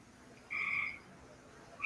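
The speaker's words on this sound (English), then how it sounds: "Those frogs." A frog croaks in one clear burst midway, fairly loud against a quiet background, with another croak starting right at the end.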